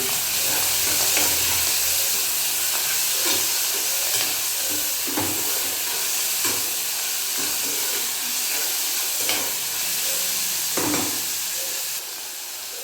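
Chopped onion and tomato fry in a pan with a continuous loud sizzle and hiss, punctuated by regular scraping stirs that recur every second or two, easing slightly at the end.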